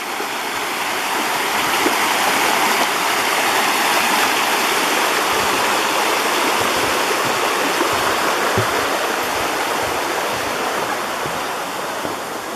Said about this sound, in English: Oh, how I love the sound of flowing water.